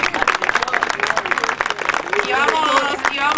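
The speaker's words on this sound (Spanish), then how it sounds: "un aplauso fuerte" A theatre audience at a municipal drama group's performance breaks into loud, sustained applause, dense clapping mixed with cheers and voices throughout, swelling into a steady roar toward the end.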